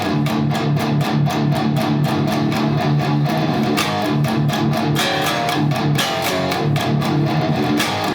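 Palm-muted electric guitar gallop riff from a song: tight, rhythmic chugs in quick repeated galloping bursts, loud and close, broken by ringing open chords.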